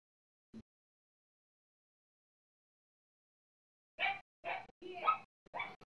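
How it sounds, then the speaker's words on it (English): A pet dog in the room behind a gamer barks in a short run of four sharp, fairly close yelps after a long near-silence, with one faint thump near the start. "That dog is crazy,"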